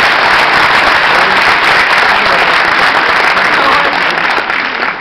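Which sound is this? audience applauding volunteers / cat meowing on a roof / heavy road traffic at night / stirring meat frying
audience applauding volunteers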